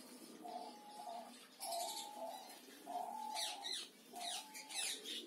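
Diamond doves kept in breeding cages coo in soft, repeated low phrases, with brighter chirps and calls from other caged birds mixed in, moderately close and with no talking.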